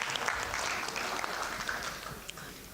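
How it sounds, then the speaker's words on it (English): Audience applause at the Broadcasters Convention Southern Africa, a steady, fairly distant patter of many hands clapping at low volume with no voices over it. "Let's give him another round of applause"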